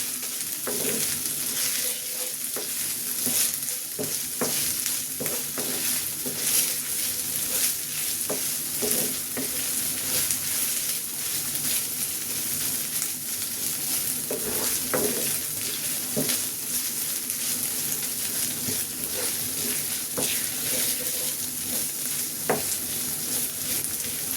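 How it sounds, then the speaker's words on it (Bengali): Ginger paste fries in a pan for fish curry, with a steady loud sizzle and frequent scrapes of a spoon stirring throughout, close up and continuous without any voices. "আদা বাটাটাকে একটু ভালো করে ভেজে নিই যাতে গন্ধটা না থাকে।"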